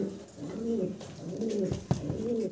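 Fancy short face pigeons, including an Andalusian-coloured bird, cooing close by in repeated soft throaty phrases, with a brief thump partway through.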